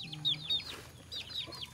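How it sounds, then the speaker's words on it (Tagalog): Native chickens cluck at home, several short, faint squawks and clucks close together over a quiet background. "Bisaya din to na manok"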